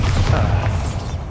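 A short, loud, low booming explosion from the Bombarda spell in the video game Hogwarts Legacy, heard alone.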